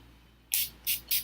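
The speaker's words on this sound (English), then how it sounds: "This is, by the way, the NYX matte setting spray." Three quick, close hissing bursts from a NYX matte setting spray pumped onto a face, each puff short and sharp with brief pauses between.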